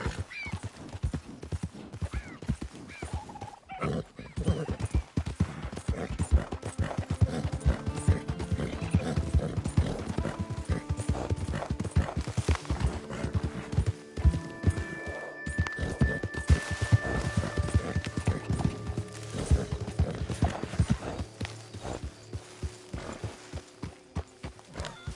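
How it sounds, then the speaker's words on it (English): Horse hooves clip-clop steadily in Red Dead Redemption 2, and the horse whinnies several times. The sound is close and continuous, with in-game music tones in the background. "Careful with that horse, Arthur."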